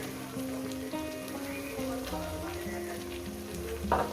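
Poppy seed, cashew and yogurt paste frying with prawns in a pan gives a steady, close sizzle with a few light clinks of stirring near the end. No talking.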